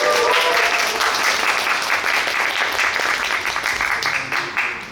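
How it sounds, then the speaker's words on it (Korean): Applause from a fan meeting audience welcoming a performer, dense steady clapping from a large crowd that carries loud throughout and tapers slightly near the end. "박수 크게 부탁드리겠습니다, 여러분"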